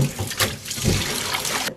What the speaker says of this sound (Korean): 자, 이렇게 해서 이제 헹구시면 되겠습니다.